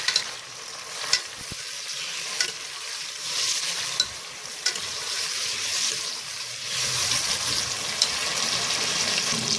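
Onions and tomatoes frying in a pan for a potato and eggplant curry, a steady sizzle with scraping stirring strokes and faint clinks, close and continuous with no talk.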